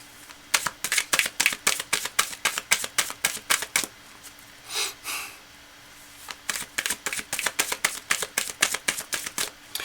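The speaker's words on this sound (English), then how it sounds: "So I'm just going to shuffle it up." Tarot cards riffle-shuffled at close range in rapid crisp flicks, one burst after another, with a short softer shuffle partway through.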